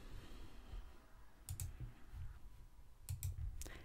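A computer mouse gives a few crisp, close clicks in quick pairs, separated by short pauses, over a low background hum.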